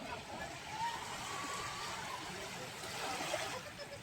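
Sea water at Boracay beach in the morning washes in a soft, continuous shush with light splashing, close by, with faint voices of people on the shore.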